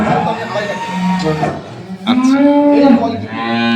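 A high-quality dairy cow on a dairy farm gives loud, close, drawn-out moos, one after another, with a person speaking nearby.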